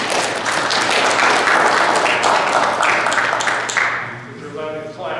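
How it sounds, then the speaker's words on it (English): Loud, dense applause at a New Ipswich town meeting with students present, sustained for several seconds and then thinning out, with voices starting as it fades. "So we'll give a quick round of applause"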